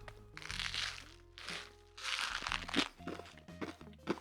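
Wonka Nerds candy eaten up close, with irregular crunching, crackling and small rattling bursts, soft and intimate with no talking.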